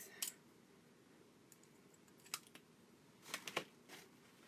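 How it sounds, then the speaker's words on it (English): Tiny Cricut craft scissors snip around a paper napkin feather cutout, giving a few faint, crisp clicks spaced out and then a quick cluster of snips near the end, close and quiet with no talking. "when I'm cutting around the feather, I use my tiny little Cricut scissors that we love for everything."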